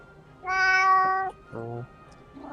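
A cat gives a clear, close meow followed by a shorter, lower second meow, with the start of a third at the end, in an otherwise quiet room.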